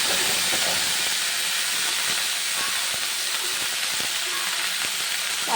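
Leafy greens dropped into a hot pan with fried garlic give a loud, continuous sizzle and steam hiss, with scattered small crackles and pops spread across the whole stretch.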